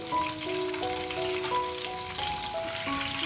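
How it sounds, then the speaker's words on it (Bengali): Fish fries in a pan, a steady close sizzle and crackle running throughout, with faint melodic background music layered on top. "এবার মাছটা দেখো কত সুন্দর ভাজা হয়েছে"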